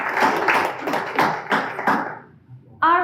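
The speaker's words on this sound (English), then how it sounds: "Round of applause for that" A round of applause from an audience at a live-streamed talk, a dense steady clatter of many hands for about two seconds that fades out, then a single voice starts speaking.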